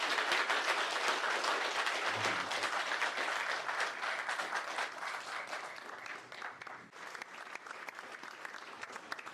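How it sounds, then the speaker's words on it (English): An audience at a mayors' summit applauds a panel, a full burst of clapping that starts strong, then gradually thins and fades toward the end. "let's give these folks a round of applause for that"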